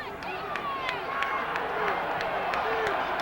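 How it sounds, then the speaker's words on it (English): Steady crowd roar in a large college football stadium on a third down play, swelling slightly louder over a few seconds, with scattered claps and whistles beneath a continuous wash of noise. "Crowd picking up the noise level."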